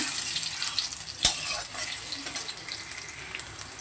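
Potatoes for a fish curry fry in oil tempered with white cumin, giving a steady close crackling sizzle with one sharp clack from a utensil early on.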